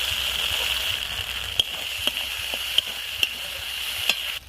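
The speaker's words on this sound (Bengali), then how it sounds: "মশলাটা খুব সুন্দরভাবে ভাজা হয়ে গেছে এর মধ্য থেকে তেলও ছেড়ে গেছে" Steady sizzling of cashew spice paste frying in hot oil for egg korma, punctuated by several sharp clicks of a spoon stirring against the pan.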